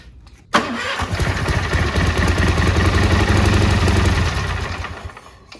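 An old, long-abandoned Cub Cadet lawn tractor engine cranks and catches on starting fluid with the choke off and full throttle, firing up abruptly, then running loudly and roughly for several seconds before fading.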